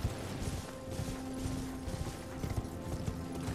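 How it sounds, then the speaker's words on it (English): A horse's hooves clip-clop steadily past in a video game, a faint rapid rhythm over a dense background. "hear my horse ride by"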